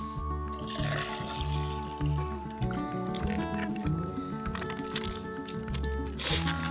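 Recovery shake powder being mixed with water after a long trail run, with liquid pouring, trickling and squishing close by while music plays underneath.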